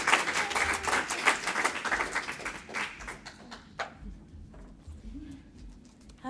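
A meeting audience at the King County Women's Advisory Board claps for the panel and Dr. Pierce, a fairly loud patter of many hands that thins out and fades after about three seconds into scattered taps and quiet room noise.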